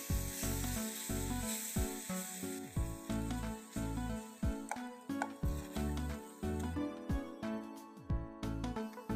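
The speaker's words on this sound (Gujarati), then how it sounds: "હવે એમાં આપણે દૂધ ઉમેરીશું." Milk is poured into roasted flour in a hot pan, giving a continuous hissing sizzle under a steady stream of pulsing, layered sound.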